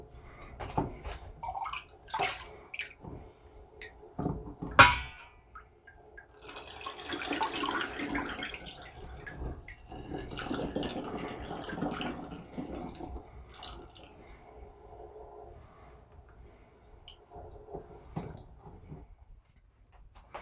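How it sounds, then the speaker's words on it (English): Homemade ginger beer is poured from a container into bottles in a kitchen, with intermittent splashing and trickling bursts, occasional clinks, and quiet pauses between pours. "Now all we have to do at this point, after giving it a little stir, is to start pouring it in our bottles."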